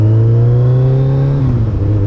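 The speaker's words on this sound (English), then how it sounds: "These are the loudest pipes that I've ever had on a motorcycle" Kawasaki ZZR1400 motorcycle with loud aftermarket exhaust pipes, a close steady deep engine drone that holds, then dips slightly in pitch as the revs ease off, alone with no talk.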